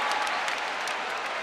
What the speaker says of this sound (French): Applaudissez pour la réconciliation en Côte d'Ivoire.